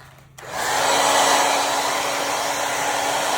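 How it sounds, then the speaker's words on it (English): A hair dryer on its low setting switches on after a brief pause and blows a steady, close, whooshing hum while heating vinyl on a hat, with no voices over it. "I'm gonna take a hair dryer and put it on low, and I'm just gonna hit this with a little bit of heat"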